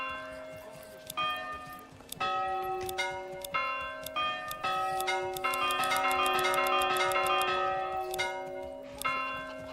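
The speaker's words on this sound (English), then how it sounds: "we can change the bell sound" A deep village bell rings in the video game Manor Lords, struck repeatedly with rich, lingering resonant tones that build and overlap into a dense peal, loud and close, with no talking.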